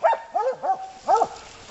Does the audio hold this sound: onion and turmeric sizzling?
no